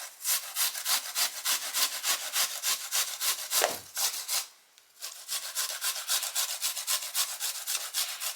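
Coconut is rasped by hand against a metal grater in quick, even back-and-forth scraping strokes, close and clear, with a brief pause midway before the steady rhythm resumes.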